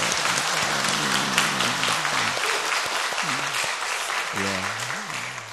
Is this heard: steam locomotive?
no